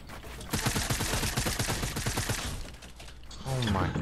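Rapid automatic gunfire in a video game rattles in a fast, steady stream of shots for about two seconds, then fades as a voice breaks in over the noise.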